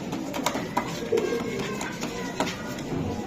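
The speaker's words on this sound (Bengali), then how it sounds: "ভাই এই যে ব্ল্যাক ব্ল্যাক রেসার একটা মাদি কবুতর" A female black racing pigeon coos softly in short repeated calls, close by, amid light handling and background noise.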